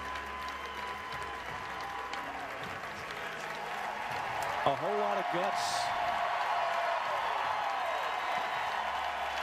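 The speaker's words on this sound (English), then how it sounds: "a whole lot of cheering going on for the effort" Large baseball stadium crowd cheering and applauding during an NC State versus Arkansas game, a steady broad roar that swells midway, heard under a commentator talking throughout.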